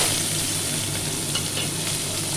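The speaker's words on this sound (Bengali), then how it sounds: "এবার পেঁয়াজ কুচি একটু লাল করে নেব" Chopped onions fry in hot oil with asafoetida and green chilli, giving a steady, dense sizzle throughout with faint stirring scrapes and no voices.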